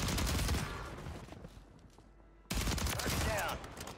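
Fast shotgun blasts from the DOOM shotgun in a Call of Duty battle royale on Rebirth Island, a cluster of loud close shots, a short lull, then another burst of firing.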